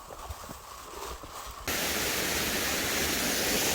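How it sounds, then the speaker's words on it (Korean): Cheongchun waterfall on a rocky Yeongnam Alps mountain trail, heard as a loud, steady broadband roar that surges in suddenly and stays constant, close by, after quieter ambient sound. "청춘폭포 장관입니다"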